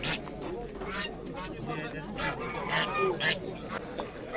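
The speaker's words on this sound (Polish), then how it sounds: "Dzisiaj dużo gęsi w Michowie." Geese honking repeatedly at a busy Michów poultry market, the calls mixed into steady crowd chatter and nearby talking voices.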